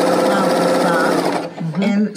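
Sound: L890 serger sewing machine stitching

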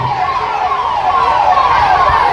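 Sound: fire engine siren

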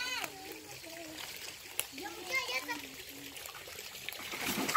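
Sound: people splashing and bathing in a river

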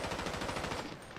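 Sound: gunfire in video game GTA 5 Online

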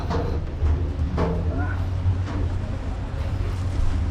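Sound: ship on which passengers are riding

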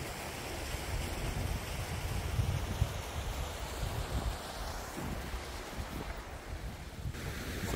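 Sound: wind blowing

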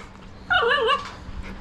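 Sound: puppy whimpering

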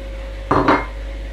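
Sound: adding potatoes and green beans to a pot

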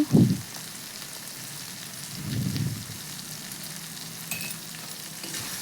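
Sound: sautéing masala with sauce for fish roe curry

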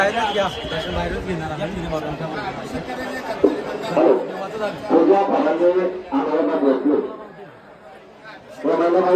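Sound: crowd of devotees chattering at Jejuri temple

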